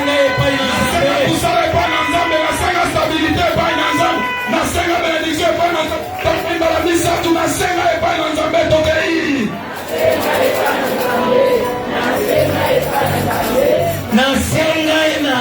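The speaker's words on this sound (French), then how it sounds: "embrasse Samuel avec des acclamations" A church worship congregation cheering and shouting acclamations over loud music, voices whooping and yelling continuously, the crowd noise swelling and shifting partway through.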